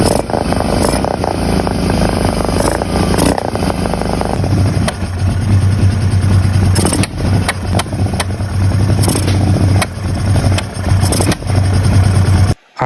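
An abandoned Kawasaki KFX700 sport quad, recently revived after water got into its engine, runs loud and close with a rough, rumbling exhaust that rises and falls as it revs and rides, then cuts off abruptly at the end.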